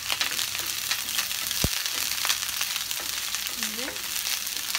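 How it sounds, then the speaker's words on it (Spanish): Chopped onion frying in a pan with a dense, constant hissing sizzle, close and loud, with a few faint tonal squeaks and a brief knock from the cookware. "Y la vamos a dejar ahí que se dore. Que se dore un ratito aquí la cebolla."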